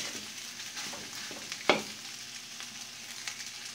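Fried rice with ground pepper, salt and fish sauce seasonings is stirred in a pan, a soft continuous sizzle with light scraping and one sharp clack from the spatula, no talking.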